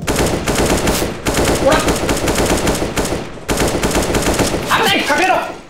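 Rapid automatic AK rifle fire in a Counter-Strike: Global Offensive match, loud sustained bursts with brief gaps, someone talking briefly over the gunfire.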